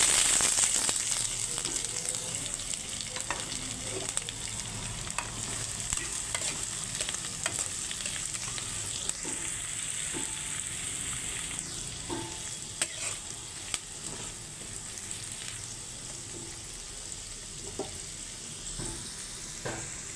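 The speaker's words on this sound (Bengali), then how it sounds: "এখন পেঁয়াজগুলো ভাজা ভাজা হয়ে গেছে," Chopped onions fry in a pan with cardamom, a chilli and bay leaf, with a steady, hissing sizzle, broken by occasional stirring scrapes; no one speaks.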